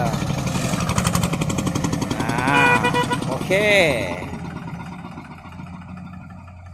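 A farm tractor engine runs close by in a rural Isan rice-harvest setting, a loud chugging mid-pitched drone with shifting revs, while someone speaks briefly over it before the engine noise fades somewhat.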